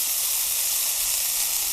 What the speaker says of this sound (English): I'm going to create some steam